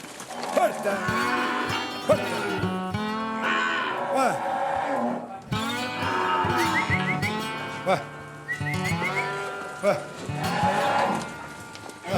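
Cattle on a ranch in Costa Rica mooing loudly and close by, one long drawn-out moo after another with overlapping calls from several cows filling the whole stretch.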